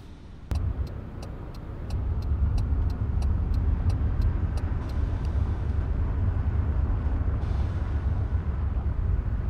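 A bus engine in the video game Tourist Bus Simulator starts with a sharp click, then settles into a steady low rumble, accompanied by a brief series of rhythmic ticks early on.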